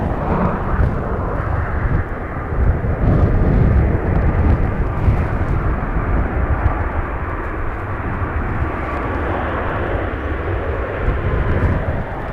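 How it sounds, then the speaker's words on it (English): A Ryanair airliner roars loudly and continuously as it lands in blustery crosswinds at Dublin Airport, the engine rumble joined by strong wind noise for the whole stretch, without speech. "You never see a Ryanair hanging that long in the sky."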